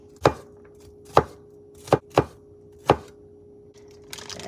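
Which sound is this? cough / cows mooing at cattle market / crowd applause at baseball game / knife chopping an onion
knife chopping an onion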